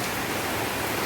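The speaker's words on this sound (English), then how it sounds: "Oh, it's freaking raining here." Rain falls steadily in a dense, even hiss, loud and continuous with no voices or other sounds over it.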